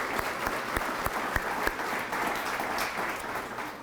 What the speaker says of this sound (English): Please, a round of applause for these 15 dedicated people.